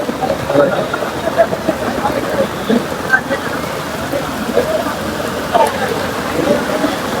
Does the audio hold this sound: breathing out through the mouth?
no